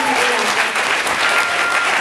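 Convention panel audience applauding, a dense, even wash of clapping from a large crowd, loud and continuous throughout.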